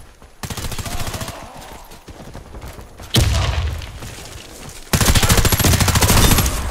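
Gunfire and grenade blasts in the shooter game Warface: sustained rapid automatic bursts, a sudden loud boom about halfway through, then another heavy barrage of dense firing, all loud and close.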